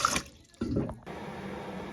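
Tap water runs into a container for cooking oatmeal, starting with a splashy gush, a brief pause, then a steady close hiss of flowing water with no talking.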